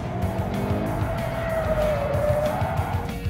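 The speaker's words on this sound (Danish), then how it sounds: "når vi nu kører så frisk, som vi gør her, og vi får bagenden nu, som vi gør" A 200-horsepower Subaru BRZ sports car weighing about 1300 kilograms drifts with its electronic aids switched off. Its tires give a sustained, wavering squeal over a loud, steady engine roar, with no voices.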